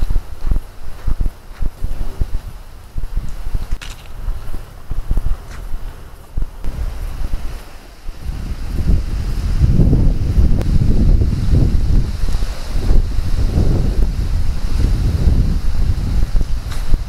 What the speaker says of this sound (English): I'm thinking it may be too windy everywhere in this area to actually camp